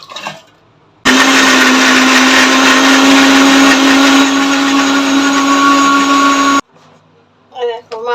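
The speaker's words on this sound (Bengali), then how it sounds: "এই মিক্সির বাটিতে দিয়ে পেস্ট করে নেবো মশলাটা" A mixer grinder loaded with dried red chillies, ginger, garlic and onion roars loudly for about five seconds, starting and stopping abruptly, with someone talking just before and after.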